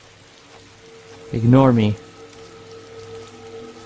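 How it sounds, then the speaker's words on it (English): Heavy downpour in the video game DayZ: a steady, soft rain hiss runs throughout, briefly overlaid by someone speaking in the middle. "Damn, it's a downpour right now."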